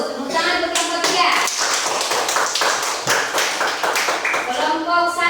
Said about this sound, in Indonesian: Bagus, tepuk tangan untuk kelompok 3